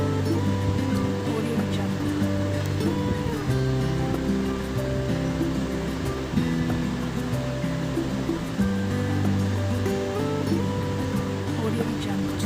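Gulab jamun dough balls deep-frying in hot oil give a steady, continuous sizzle that holds at an even level throughout, with a faint tonal layer beneath it.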